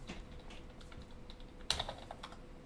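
Computer keyboard typing, a run of light irregular key clicks at moderate distance with one sharper, louder burst of keystrokes partway through, no voices.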